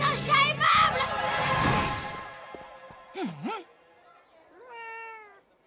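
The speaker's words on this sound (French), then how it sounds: "Que le tigre indomptable devienne un chat aimable." In an animated children's show, a cartoon cat meows after a tiger is magically transformed, giving a couple of distinct wavering meows following noisy, busy sounds, with a voice speaking before.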